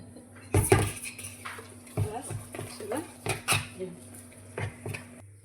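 Pakoda kebab batter being mixed by hand in a bowl, giving irregular clinks and scrapes of utensils against the dish over a steady low hum, with talking in the room.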